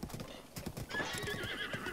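Hoofbeats of a horse in the video game Zelda Breath of the Wild form a rhythmic, close clip-clop that continues steadily, with a brief whinny-like tone partway through.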